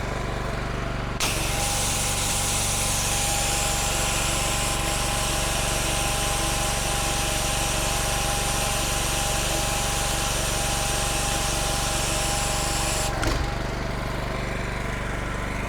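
A pressure washer drives sticky foam through an M6 downstream injector at high concentration, giving a steady loud engine drone and a broad spray hiss that cut in after a click and run unbroken for about twelve seconds before stopping abruptly.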